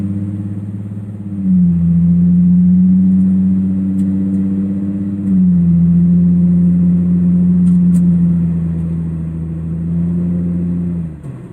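Nissan 350Z with a Z1 Motorsports M-Spec Y-pipe-back dual exhaust driving on a back road, a deep droning exhaust note that rises as it accelerates, holds steady, eases off and picks up again, loud and close without talking.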